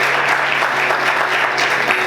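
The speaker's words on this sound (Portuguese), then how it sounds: "Aplauda o Senhor, queridos" A church congregation keeps up continuous, enthusiastic clapping, a dense crowd texture at steady loudness with no clear speech over it.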